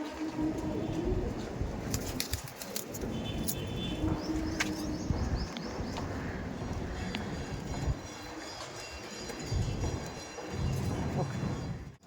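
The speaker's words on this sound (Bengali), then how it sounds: "দেখছেন কতটা অ্যাক্টিভ পায়রা।" Giribaj pigeons coo softly in a loft with a steady low murmur, joined by occasional sharper clicks and rustles at middling distance.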